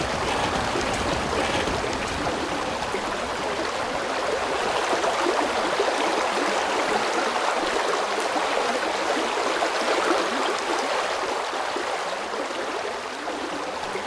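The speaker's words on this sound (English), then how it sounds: "The water here is noisy. This is the water slide that goes to the water wheel." Water flowing down a water slide toward a water wheel in the Vintage Story video game, a constant hissing, splashing rush that stays loud and even throughout.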